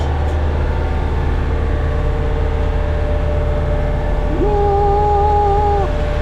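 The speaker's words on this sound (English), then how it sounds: "Sorry about the engine noise." A sailboat engine runs steadily at 2300 rpm, a loud, constant low drone that fills the whole clip, with a faint tonal hum rising briefly near the end.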